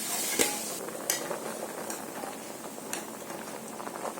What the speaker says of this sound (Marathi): आता याला चांगली उकळी यायला देते.